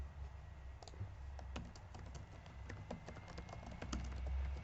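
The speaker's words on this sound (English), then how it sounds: "you can go to YouTube and type in how to optimize my website." A search query being typed on a computer keyboard: a quiet, steady run of small clicky keystrokes with no talk.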